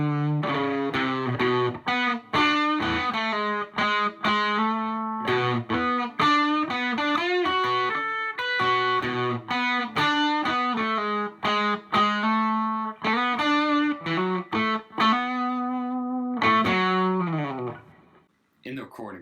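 A distorted electric guitar plays an intro riff, a busy run of picked notes and slides that is loud and up close, ringing out and fading at the end with no talking.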